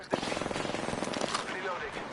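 Rapid gunfire from Apex Legends, a burst of evenly spaced shots rattling off in quick succession for about two seconds, fairly close and loud, with a game voice talking over it.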